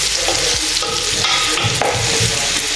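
Garlic, ginger and onion stir-frying for restaurant-style Chinese fried rice, a steady loud sizzle with scraping spatula strokes and clatter close up, no talking.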